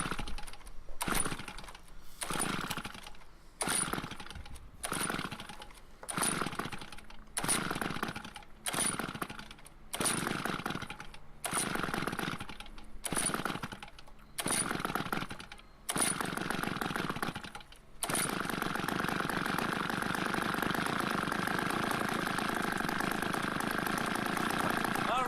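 Small gas engine being pulled to start: a run of about a dozen rhythmic rapid bursts from repeated cranking, then the engine catches and settles into a steady continuous running drone for the last several seconds.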